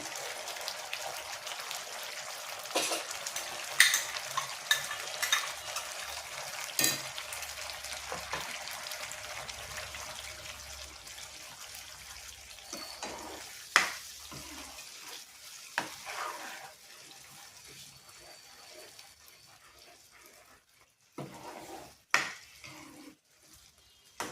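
Masala chicken curry frying in a pan, a soft continuous sizzle broken by scattered scrapes and taps as it is stirred, growing sparser and quieter toward the end.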